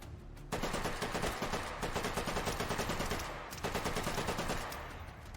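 Sustained automatic gunfire in a first-person shooter level, with bullets pumped into a heavy enemy, comes as two long rapid bursts separated by a brief pause, loud and close with no talk.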